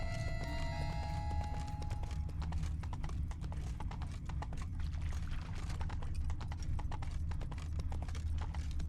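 Geralt's horse Roach gallops in The Witcher 3: Wild Hunt, Blood and Wine, a fast, steady clip-clop of hooves with a low rumbling bed underneath, faint and continuous throughout.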